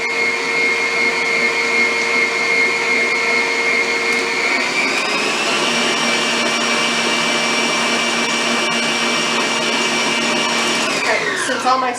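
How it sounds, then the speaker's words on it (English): An electric mixer beats sugar cookie dough in a steady motor whine, loud and close. Its pitch steps up partway through, then it winds down at the end, and no one talks over it. "Now just mix this for a little bit till it gets really mixed good."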